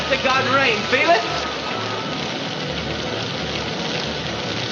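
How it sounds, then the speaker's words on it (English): Steady rain falls on a surface with a dense, even hiss, and a voice speaks briefly at the start. "It's rain!"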